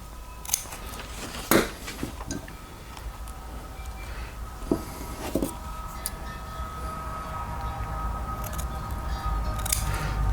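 A few sharp, scattered snips of scissors cutting car door trim panel material, separated by quiet pauses over a low steady background hum.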